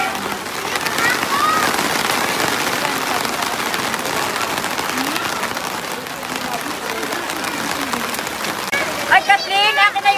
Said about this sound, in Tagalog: Nakadalawang ulan ng malaki.